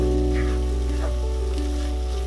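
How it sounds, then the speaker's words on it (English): Spices and vegetables frying in oil for egg keema, a steady close sizzle and crackle over a constant low hum, without talk. "My spices and vegetables have been cooking for 5 minutes now, and the oil has started coming out."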